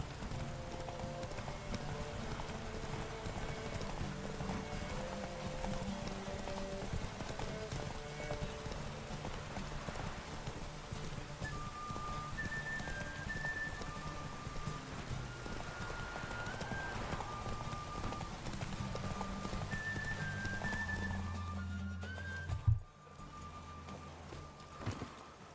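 Horse hooves clip-clop in a steady galloping rhythm during a race in The Witcher 3, close and continuous, with game music tones above and a brief thud near the end.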